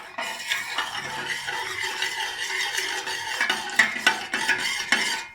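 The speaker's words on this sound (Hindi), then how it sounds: "ये देखिए इस तरह आपने फेंटते चले जाना है।" A spoon beats Kashmiri pink tea with milk, sugar and cardamom in a pot, making rapid rhythmic scraping and splashing strokes that grow sharper and more clattery toward the end, with no talking.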